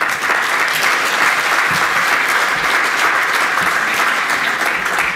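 Sustained audience applause fills a conference room at the close of a morning session of scientific talks, a steady dense clapping that continues without a break and with no voices over it.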